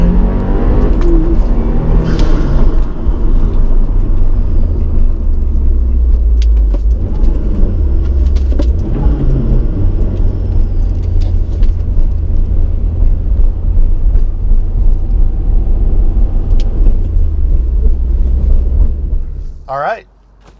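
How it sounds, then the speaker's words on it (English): 2022 Subaru WRX doing a launch-control start and flat-foot shifts, its engine revving and pulling hard in a loud, continuous run with rising and dipping revs before cutting off at the end. "There's your demonstration of both flat foot shift and launch control."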